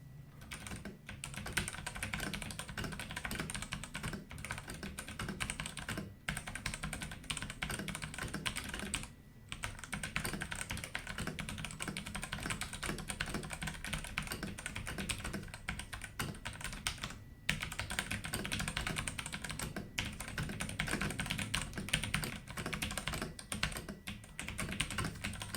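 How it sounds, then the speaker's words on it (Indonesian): Continuous typing on an NYK MKN07 hot-swappable mechanical keyboard, a dense, even stream of close, crisp key clacks with occasional brief pauses, heard alone without talk. "mari kita dengarkan dulu keyboard sound test-nya"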